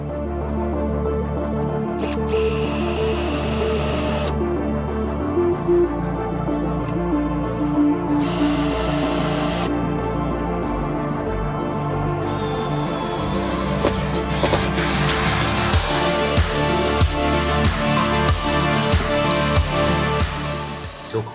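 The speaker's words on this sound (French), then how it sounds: "aucun problème pour le vissage dans le bois, la machine ayant 85 Nm de couple" A Ryobi R18PD7 cordless drill driving pre-started screws into an offcut of wooden rafter, motor whirring in several loud, close bursts with pauses between and a continuous stretch of driving toward the end.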